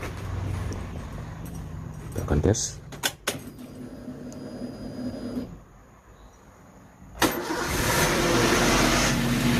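A car engine with a failed radiator fan motor, repaired without disassembly, cranks and starts; a loud, steady broadband run kicks in after a brief quiet pause, following mixed engine noise and people talking.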